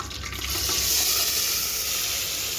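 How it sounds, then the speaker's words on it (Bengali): Ground spice paste of onion, garlic, ginger, garam masala and cumin hits hot oil in a pan, setting off a loud, continuous hissing sizzle that swells after a brief moment and holds steady. "তেল গরম হলো মশলা বাটাটা আমি ঢেলে দিচ্ছি"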